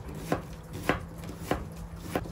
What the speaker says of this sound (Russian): Лучок нарезаем обычными полукольцами.